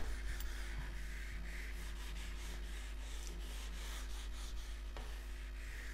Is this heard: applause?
no